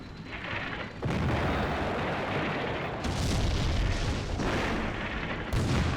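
Artillery fire in Combat Mission: Beyond Overlord, with repeated heavy booming blasts landing in waves and rumbling continuously, loud and close.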